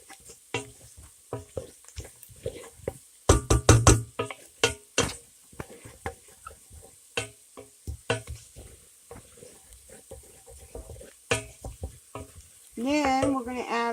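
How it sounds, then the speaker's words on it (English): Flour is stirred into browned onions and bacon in a pan, a quiet sizzle under repeated scraping and tapping of a spoon, with a brief stronger hiss near the end. "I'm going to add a tablespoon of flour. Get this all stirred in. Got to keep it stirring until we get it thick."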